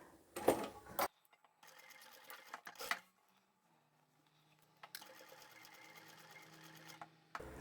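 A sewing machine runs in short bursts and a longer steady stretch while back-stitching a sling bag seam, with clicks and gaps of near silence between runs.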